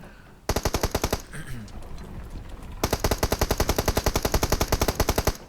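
SKS rifle gunfire in PUBG Mobile: a quick run of rapid, evenly spaced shots, a short pause with faint background noise, then a longer steady burst of loud, sharp reports.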